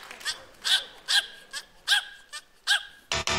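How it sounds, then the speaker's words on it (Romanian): A small performing dog barks on cue to count, seven sharp barks in an uneven rhythm, loud and close, with a burst of noise at the very end. "Câinele își lua și avânt, făcea wow, wow."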